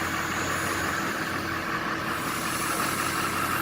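A vehicle rolls over a tire to break its bead, with a steady, close engine rumble and drone holding evenly and no voices.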